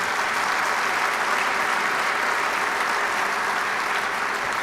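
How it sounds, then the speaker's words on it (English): Audience at a lecture on Chicano art applauding, a dense, steady wash of clapping that carries evenly through without pause or voices. "Thanks for the clap."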